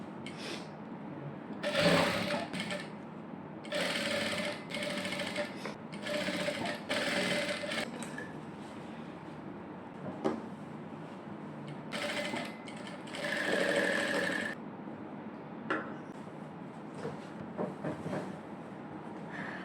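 A sewing machine stitches a princess cut blouse in repeated bursts of rapid mechanical running, separated by short pauses and quieter handling sounds.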